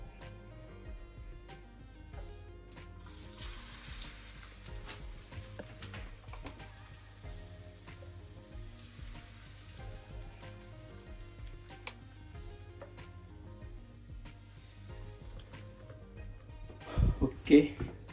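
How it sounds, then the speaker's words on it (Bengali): Pancake batter sizzles in an oiled pan, a steady hiss running throughout with light clicks of utensils, a few louder clatters near the end, and background sounds layered over it. "ওকে, পানকেক রেডি হচ্ছে।"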